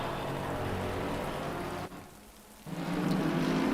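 Rain hisses steadily in a racing video game at Snetterton circuit, a soft, even wash that briefly drops away and then returns slightly louder.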